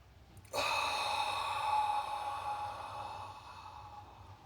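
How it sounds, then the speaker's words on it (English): A single long, deep inhale drawn in during a guided group meditation, close and breathy, starting abruptly and slowly fading over several seconds. "let's take a deep inhale together"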